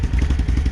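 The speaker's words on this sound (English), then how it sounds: "Typical Can-Am exhaust, stock exhaust." The stock exhaust of a 2023 Can-Am 850 XMR idles and burbles close by, a steady low thumping rumble with a slight rattle.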